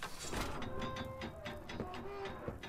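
A train runs in the horror game Poppy Playtime Chapter 3, giving a steady rumbling ride with faint rail clatter and a few brief tonal squeals and hums across a short stretch.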